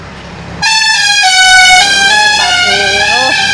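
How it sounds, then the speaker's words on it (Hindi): A loud, blaring vehicle horn sounds close by in one long continuous blast, its pitch wavering slightly toward the end. "इतना तेज हॉर्न लगा रखा है गाड़ी में कान सुन हो गए"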